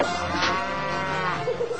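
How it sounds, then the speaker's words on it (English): A cow on a farm gives a loud, drawn-out moo close by, filling nearly two seconds with a low, wavering call. "This lovesick cow expresses her appreciation as only a bovine can."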